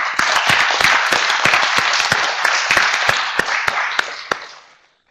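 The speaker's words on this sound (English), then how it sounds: "Let's give her a round of applause." A conference audience gives a round of applause after a panel discussion, dense clapping with sharp individual claps standing out, sustained for several seconds before quickly tapering off to silence.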